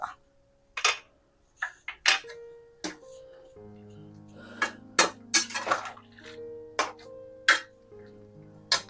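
A metal utensil scoops boiled prawns out of water and drops them into hot oil for prawn pickle. It makes scattered sharp clinks and scrapes against the pan, with a low steady hum underneath and little talk.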